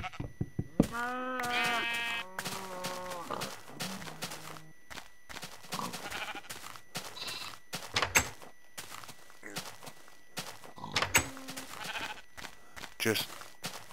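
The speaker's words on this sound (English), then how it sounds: "Hello, sheep." Sheep in the Minecraft video game bleat in several short, wavering calls early on, then a scattered mix of game sounds and footsteps follows, with a person talking throughout.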